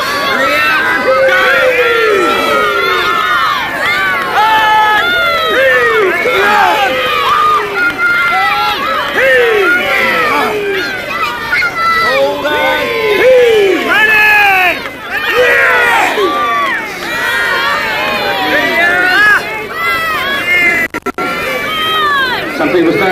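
Studio game show audience split into teams, shouting and cheering together in a loud, sustained crowd roar with overlapping excited voices throughout, rising and falling in waves.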